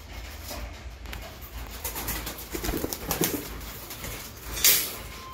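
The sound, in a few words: pigeons cooing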